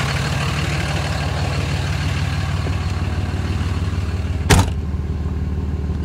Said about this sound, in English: you should notice a definite difference in the sound of the engine here